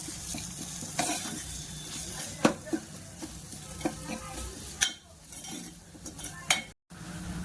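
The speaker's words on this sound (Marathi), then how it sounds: "1 चमचा तिखट आणि थोडीशी हळद टाकून छान मसाला परतून घेते" Spiced masala with salt, chili powder and turmeric frying in a pan for puri bhaji, a soft steady sizzle broken by repeated spoon scrapes and clinks against the pan, close by.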